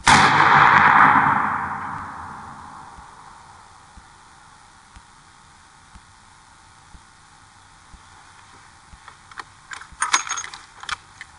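A single powerful .50 BMG rifle shot fired unsupported from the shoulder outdoors, a loud blast that decays over a couple of seconds, followed by faint clicks and handling noises from the rifle.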